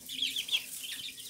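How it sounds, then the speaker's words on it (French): Small Ardennaise hen in a backyard poultry run, clucking in a few soft, high, irregular notes, fairly close, with no talking. "Les ardennaises, il doit y avoir deux poules."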